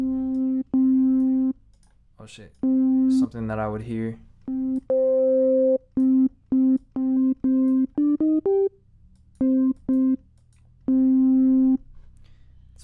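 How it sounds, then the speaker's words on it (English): A synthesizer sine wave in Ableton Live plays in repeated short and sustained tones, stopping and starting in a choppy pattern while someone talks over part of it. "Let's add a sine wave"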